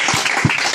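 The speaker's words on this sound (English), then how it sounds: "Clap for Jesus." A church congregation at a Sunday prophetic and deliverance service claps together for Jesus, a brief burst of dense applause with a couple of stronger hand claps standing out.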